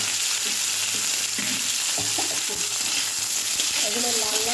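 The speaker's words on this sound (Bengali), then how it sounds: "এগুলো লাল লাল করে ভাজা হবে" Potato pieces fry in a pan with a loud, steady sizzle and crackle, broken by occasional scraping stirs and small bubbling pops, alone without talk.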